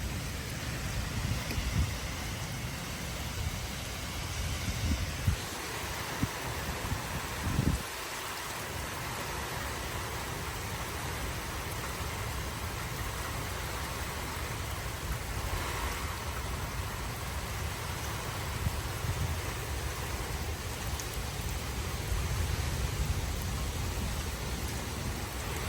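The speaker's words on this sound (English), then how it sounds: "This is the baddest part of the storm today." A severe thunderstorm with 40 mph wind gusts in Frisco, Texas, makes a dense, unbroken roar of heavy rain, with a few sharper gusts or rumbles early on.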